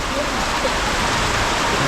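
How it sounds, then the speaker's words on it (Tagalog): Heavy rain pours down in a dense, unbroken hiss, loud and close throughout with no pauses. "Grabe, ang lakas ng ulan"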